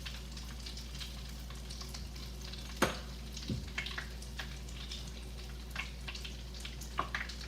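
Donut holes frying in hot oil give a steady close sizzle with crackles throughout, plus a couple of sharper clicks or knocks around the middle, and no voices.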